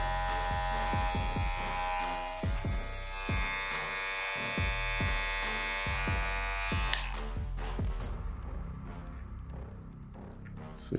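A Kemei KM 1895 hair clipper runs close up with a steady electric buzz and hum. Its motor tone shifts partway through, and the buzz fades out toward the end.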